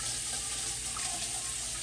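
Water from a kitchen tap runs steadily as a pan is rinsed before searing salmon, a continuous close hiss and splash with no speech.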